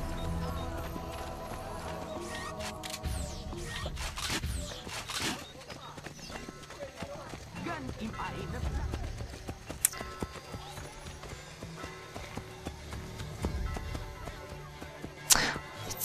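Horse hooves clip-clopping in Assassin's Creed Brotherhood, a close, irregular run of hoofbeats with a whinny and occasional sharp clatter, while a player talks over the game sounds.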